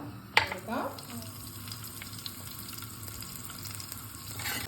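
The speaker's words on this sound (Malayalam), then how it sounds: "ചട്ടി അടുപ്പത്ത് വെച്ച് എണ്ണ ഒഴിച്ച് കടുക് ഇട്ടിട്ട് ഉള്ളി ഇട്ട് കൊടുക്കാം." Mustard seeds, onion and dried red chilies frying in oil in a pan for a Kerala onion theeyal, giving a steady close sizzling hiss with a sharp crackle at the start and no talking.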